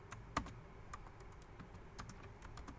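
Code is typed on a computer keyboard: a handful of scattered, quiet keystroke clicks, one slightly sharper tap, set against a faint room hiss.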